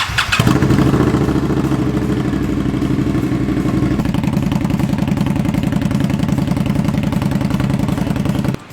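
Motorcycle engine starting and then idling to warm up before a test ride, loud and close, with a steady rapid throb and mechanical clatter that settles slightly after a few seconds and runs alone until the end.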